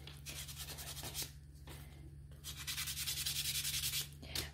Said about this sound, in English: I'm just going to give it a sand.